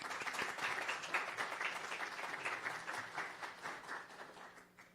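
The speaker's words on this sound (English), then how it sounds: "Let us welcome him with a warm applause." A lecture audience gives a warm round of applause to welcome a speaker before a talk on corporate strategy; steady, moderately distant clapping that slowly tapers off toward the end.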